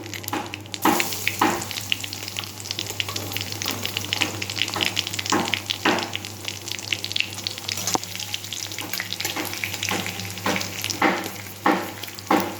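Crushed garlic hits hot tempering oil with a loud, continuous sizzle, punctuated by repeated bursts of spattering and stirring scrapes, close up, while greens with prawns are being cooked.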